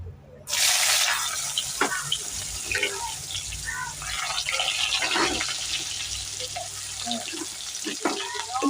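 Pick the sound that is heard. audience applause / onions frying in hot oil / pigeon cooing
onions frying in hot oil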